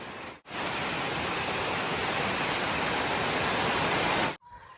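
Steady rain pours down in Guwahati, a dense unbroken hiss that holds evenly for several seconds before cutting off abruptly.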